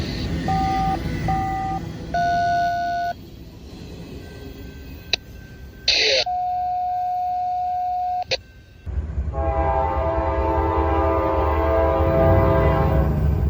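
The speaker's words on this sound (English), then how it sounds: "Here comes northbound train 282" Several loud Norfolk Southern train horn blasts sound in sequence, some long and sustained, followed by the heavy rumble of a northbound train rolling past.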